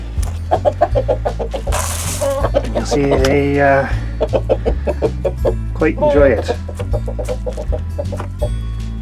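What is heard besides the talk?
chickens clucking while eating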